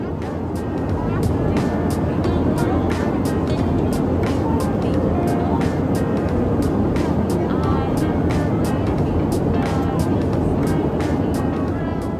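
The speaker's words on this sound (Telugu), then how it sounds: "బేసికలీ ఫ్లైట్ నాయిస్ ఎక్కువ ఉండటం వల్ల నేను వాయిస్ ఓవర్ ఇవ్వాల్సి వస్తుంది." Steady, loud airplane cabin roar during a commercial flight fills the whole stretch as an unbroken broadband engine and air rush, with faint clicks and voices blending into the drone.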